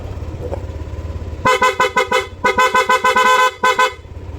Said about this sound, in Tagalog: Loud horn with passing.